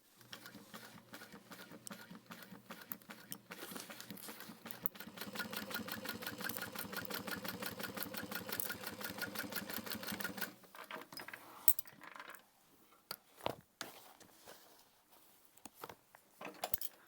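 A sewing machine stitches a crossbody bag in a fast, steady run of needle strokes lasting several seconds, followed by quieter handling clicks and knocks.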